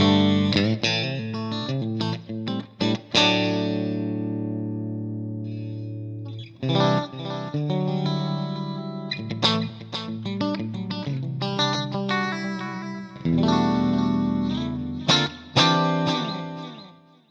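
Electric guitar played through a clean amp model on a Fractal FM3, strummed chords and picked notes ringing out with a touch of chorus, steady and upfront, no voices.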